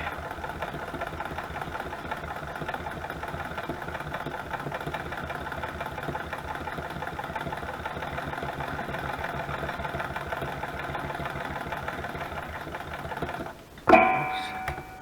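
Sewing machine running steadily while double-stitching a spring journal cover, a continuous mechanical whir with a rattling edge that holds for most of the span before a brief louder clatter near the end.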